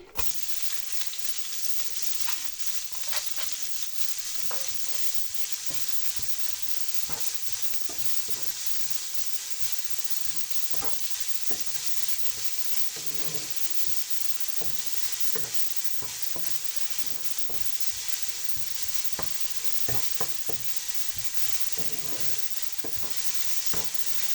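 Chopped onion hisses and crackles in hot oil tempered with cumin, a steady close sizzle with frequent spoon scrapes and taps against the pan throughout, no voices.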